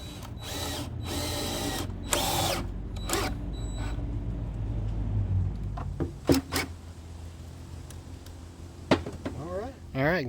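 A power drill drives five screws into a homemade cannon built from scratch, with several loud, short whirring bursts up close, separated by pauses and handling clatter, and a person talks in between.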